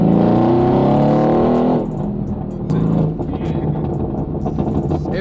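Mercedes-AMG GT sports car engine revving loudly up close, then dropping off into a burst of sharp exhaust crackles and pops as the throttle closes, with scattered bangs trailing at the end.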